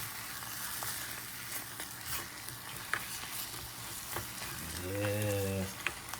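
Soondubu ingredients frying in a pot while being stirred, a moderate sizzle broken by scraping utensil strokes and a few clinks, with a brief tonal hum near the end.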